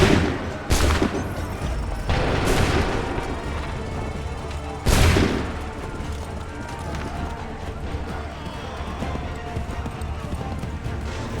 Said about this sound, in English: Make ready! Open fire!